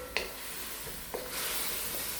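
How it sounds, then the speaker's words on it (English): Chinese broccoli (gai lan) sautéing in a pan gives a soft, steady sizzle with two brief scraping stirs, growing into a fuller hiss near the end. "Saute it."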